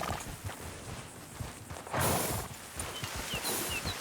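Horse hooves clip-clopping in Red Dead Redemption 2, a steady run of soft hoof beats close by. There is a brief louder burst of ambient noise partway through, and no talking.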